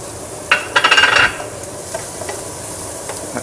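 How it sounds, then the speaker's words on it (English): Freshly crushed garlic hits a hot pan of softened carrots and vegetables for a risotto, giving a short burst of loud sizzle and scraping stirs for under a second, then quieter occasional clicks and faint frying. "Now we're going to add in our garlic,"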